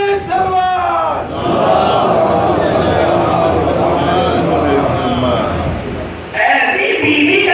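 A congregation at a Muharram majlis chants salawat in loud unison in response to the preacher, a dense and sustained wall of many voices that rises and falls before a fresh surge near the end.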